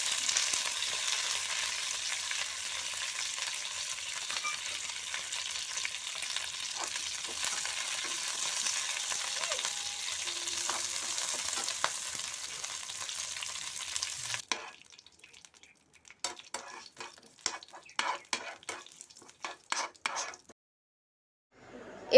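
Curry leaves spit and crackle in hot oil for idli chutney, a dense, steady sizzle that breaks off midway into sparse, sharp pops and crackles with brief quiet gaps between them.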